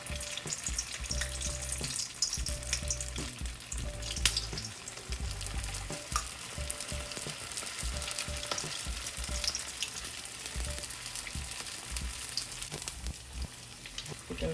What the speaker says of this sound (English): So we're going to go ahead and start frying them since our oil is hot.